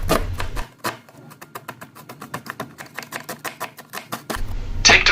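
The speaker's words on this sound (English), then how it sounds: "Cut onion into small pieces." A knife chops an onion into small pieces on a cutting board with a quick, even run of crisp taps that continues steadily for several seconds.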